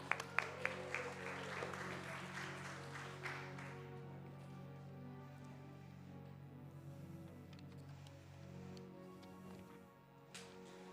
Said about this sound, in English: How about a clap for that?